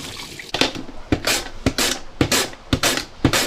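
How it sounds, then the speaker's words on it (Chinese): Radishes being washed by hand in water, with repeated splashing sloshes and drips at a steady rhythm, close and fairly loud, with no talk. "首先你要把萝卜洗一下"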